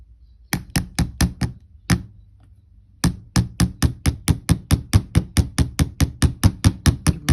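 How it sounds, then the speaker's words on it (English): A rubber mallet strikes wire hoop earrings on a hard surface in quick repeated blows, a short burst first, a pause, then a long steady run of loud, evenly spaced thuds. "give them a good hammer, get them nice and strong"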